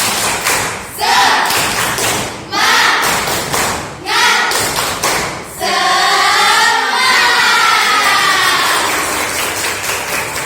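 A school class does the tepuk semangat spirit clap, several loud rhythmic bursts of group clapping and thumping mixed with children's chanting voices close by.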